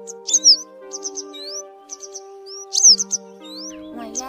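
Yellow-bellied wagtail calling, with sharp, high chirps and short rising whistles repeated in quick clusters over a faint, steady tonal hum.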